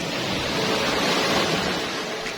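Large sea waves surge on a low-pressure day off Anda, Bohol, a steady loud wash of surf and wind filling the whole stretch without pause.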